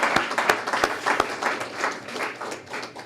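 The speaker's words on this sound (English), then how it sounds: "Maybe another round of applause for our graduates." An audience at a fall graduation and awards ceremony applauds the graduates, with scattered sharp claps blending into a dense, sustained wash of clapping.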